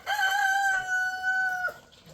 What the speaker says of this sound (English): daggum chicken